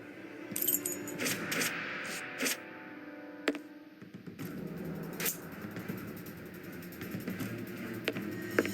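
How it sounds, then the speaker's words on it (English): Metal keys jingle and clink in the Testament of Sherlock Holmes video game, bright scattered rattles over several seconds with brief pauses, close and moderately loud over a low background. "Take the keys."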